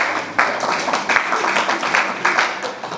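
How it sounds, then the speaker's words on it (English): Audience clapping at a mentalism performance, a brief, moderately loud burst of applause from a room of people lasting a few seconds. "give yourself a round of applause."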